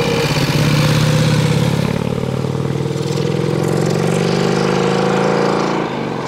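A Godet-Egli-Vincent motorcycle with a spine-tube chassis runs loudly and steadily close by, its engine note rising slightly as it revs throughout.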